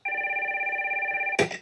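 A telephone rings with a steady, rapidly pulsing electronic trill, loud and close for over a second, then cut off by a sudden clatter as it is picked up.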